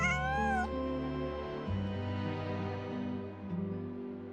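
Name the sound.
cat meowing in video game Genshin Impact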